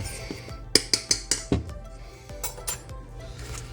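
Seasoning with garlic powder being mixed quickly in a bowl for a steak and potato pie filling, heard as a burst of close, bright clinks of utensil against dish in a rapid run, then a few softer taps.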